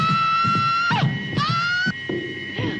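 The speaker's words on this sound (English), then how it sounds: "The patient's scream disturbing me." A patient screams in a horror film, long harsh sustained cries rising and breaking over a throbbing low rumble, loud and close.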